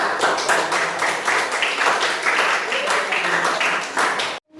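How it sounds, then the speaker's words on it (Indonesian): Group applause fills a classroom, with many hands clapping steadily and densely for about four seconds before stopping abruptly. "Oke, tepuk tangan"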